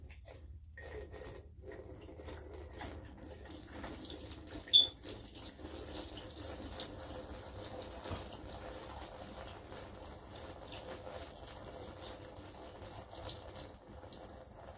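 Quiet water trickles steadily down an RV shower drain during winterizing, a faint continuous wash with one sharp click partway through.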